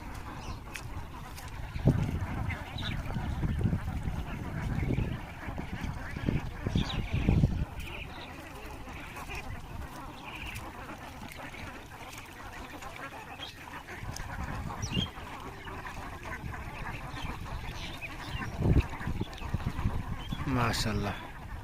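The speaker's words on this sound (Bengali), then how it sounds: "আমরা এখন দেখতে পাচ্ছেন হাঁসগুলা কত সুন্দর" Flock on a commercial duck farm quacking and honking at intervals through a steady farmyard background, with someone talking over much of it.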